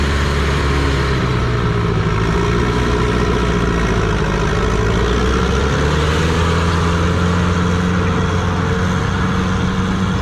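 A pulling tractor engine at a fall tractor pull in Lynden, running in a 6 mph class, drones in a loud, steady low-pitched roar with a slight rise in pitch partway through, continuous and close.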